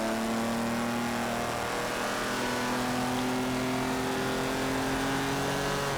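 A 1959 Jaguar Mark II engine in Forza 7 pulls hard through the gears on a racetrack, a loud, steady rising drone with layered harmonic tones and no talking.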